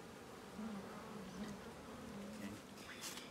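Honeybees buzzing inside an open hive among brood frames, a soft continuous drone with individual bees rising and fading nearby, faint and close.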